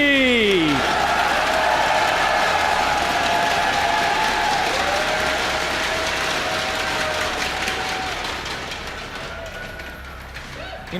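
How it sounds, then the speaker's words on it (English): A large crowd cheers and applauds at a StarCraft II WCS Season 3 grand final, a dense, sustained roar that slowly fades toward the end, with a voice faintly audible over it. "Cheer for him if you want him to come back."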